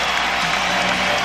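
A capacity arena crowd of more than 20,000 at a 1992 NBA playoff game between the Chicago Bulls and Cleveland Cavaliers gives a standing ovation, a dense and steady roar of applause and cheering that fills the whole short stretch.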